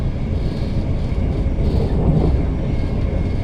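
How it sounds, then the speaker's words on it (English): A Greater Anglia train from Stansted Airport toward London Liverpool Street rumbles steadily with a loud, continuous low roar, heard from inside the carriage. "hurtling along towards London Liverpool Street train station from Stansted"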